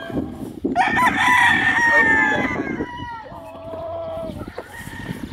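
A rooster crows loudly close by, followed by hens clucking and softer fowl calls.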